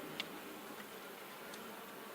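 Honey bees buzz faintly and steadily around the brood nest of an opened hive, with a soft continuous hum and a few tiny clicks or taps.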